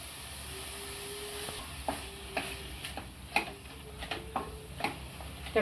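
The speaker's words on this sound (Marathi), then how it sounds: "पनीर मध्येच हा दोन चमचे रवा चांगला भाजून घ्यायचा" Paneer and semolina roasting in a kadhai over medium flame, a soft low sizzle under steady ticking spoon strokes scraping the pan, fairly faint and with no talking.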